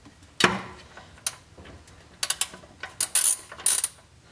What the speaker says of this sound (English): just start loosening it with the breaker bar